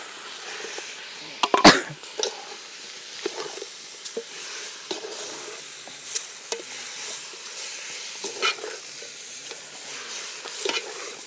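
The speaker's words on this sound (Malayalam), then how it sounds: "അപ്പോൾ നമുക്കിത് ചിക്കൻ ഇട്ട് കൊടുക്കാം." Chicken pieces dropped into thick masala for a Kerala varutharacha curry fry in the pan, with soft steady sizzling broken by scattered scrapes and stirring knocks, one sharp clatter early on, close and fairly quiet.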